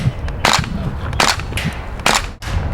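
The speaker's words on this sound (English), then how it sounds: "pull back the bolt, aim at your target, and shoot." A WE M14 airsoft rifle is test fired, giving three loud, close, sharp snapping shots spaced under a second apart with bolt and handling noise between them.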